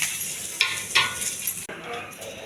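Cumin, mustard seeds, curry leaves and chopped onion sizzle in hot oil, a close, bright crackling hiss broken by a few clinks of stirring against the pan.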